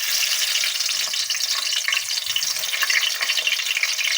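Tomato halves fry in hot oil on a tawa for a chutney with onion, giving a steady, close, continuous sizzle that holds evenly throughout with no voices.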